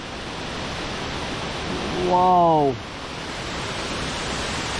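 Rushing water from a waterfall at Khlong Lan roars as a steady, loud broadband wash on a rainy day, with a man's brief exclaimed remark rising over it midway.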